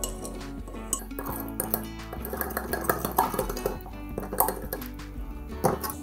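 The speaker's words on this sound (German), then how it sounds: "Dann kann ich zusammen mischen." Ingredients for mahamri being mixed in a bowl, a utensil clinking and scraping against the sides in an uneven rhythm, close and fairly quiet, with no talking.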